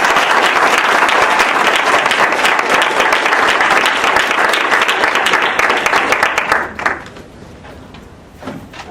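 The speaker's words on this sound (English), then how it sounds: "a warm round of applause to welcome him to the stage" Loud applause from a debate audience welcoming a speaker to the stage at Rutgers University, dense and sustained clapping that thins out after about seven seconds and leaves a quieter room with a few stray sounds.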